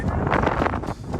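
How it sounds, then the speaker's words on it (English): Wind buffets the microphone in a steady low rush with gusty swells, close and fairly loud, at an outdoor eventing competition. "It's a bit windy."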